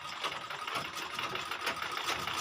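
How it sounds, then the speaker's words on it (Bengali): A sewing machine stitches a sari, running in a steady, continuous whir with a fast mechanical rhythm, close and fairly loud with no talk over it. "শাড়ি, শাড়ি সেলাই করছি।"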